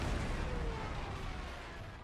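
Dive bomber attack in the World War II strategy game Panzer Corps 2, Poland campaign: a dense, loud rumbling blast with crackling debris that fades slowly over two seconds, no voices.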